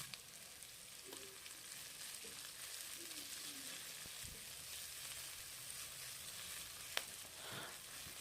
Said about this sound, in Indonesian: Lalu masukkan bawang bombaynya. Tumis-tumis kembali hingga sedikit layu ya.